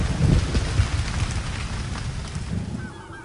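Steady rain falls as a continuous, close wash of noise in a German audio drama storm effect, with no clear thunder crack standing out and no speech.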